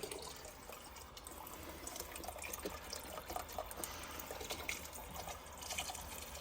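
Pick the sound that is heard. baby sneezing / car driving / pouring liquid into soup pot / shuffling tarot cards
pouring liquid into soup pot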